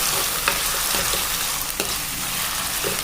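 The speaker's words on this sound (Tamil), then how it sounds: "தக்காளியை நல்லா வதக்குங்க." Steady sizzling of tomatoes sautéing in a hot pan for fish curry, with occasional scrapes and stirs of a utensil.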